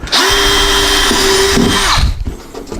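A power drill runs loud and close, its pitch holding steady before winding down, then briefly spinning again.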